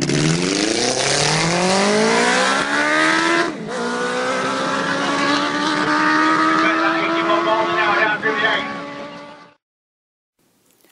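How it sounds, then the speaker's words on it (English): A 600cc mobility scooter blasts down a drag strip, its engine screaming louder and higher through two quick gear changes before the sound cuts off abruptly near the end. "a 600cc mobility scooter setting the world record at the drag strip"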